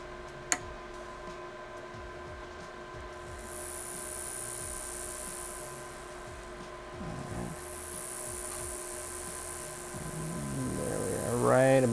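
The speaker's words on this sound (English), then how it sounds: "I'm going to crank the crank until I hear the telltale sound of it engraving the metal" A galvo laser engraving metal gives a thin, high steady whine that starts a few seconds in and holds, over a faint electrical hum and soft ticks, with a sharp click early and clatter near the end.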